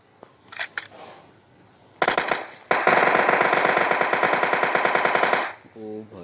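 Thompson submachine gun in a video game fires a few quick shots, then a long sustained automatic burst, loud and close, ending with a brief clatter.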